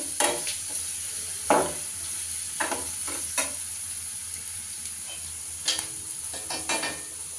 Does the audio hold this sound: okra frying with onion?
yes